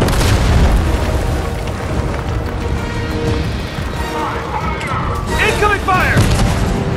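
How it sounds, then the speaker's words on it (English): Heavy booms and explosions with incoming fire during a tank assault in Fortnite, a loud rumbling barrage with crackling bursts, and a voice talking partway through. "Incoming fire!"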